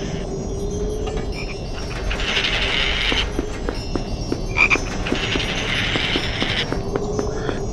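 A chocolate frog from the PS2 Harry Potter and the Sorcerer's Stone game croaks steadily, with rattling, ratchet-like croaks in a few sustained bursts, close and clear, with no voices.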